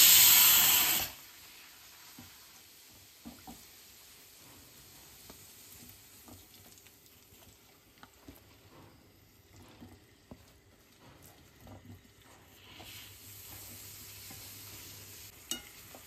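Food fries in hot oil with a faint, steady sizzle and occasional soft stirring clicks, after a brief louder burst at the start.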